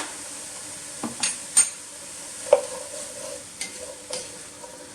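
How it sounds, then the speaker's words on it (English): Vegetables for a sloppy joe starter being stirred in a pot: a few scattered scrapes and clinks of a utensil over a faint, steady sizzle, close by with no talking. "I'm just going to give this a good stir."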